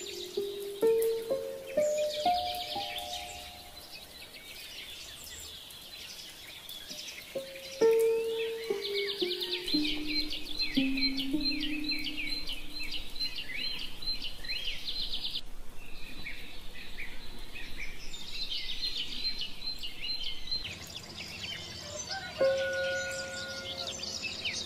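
Birds sing in clear, descending whistled phrases and repeated high trills, alternating with insect-like buzzing, at moderate volume without any talking.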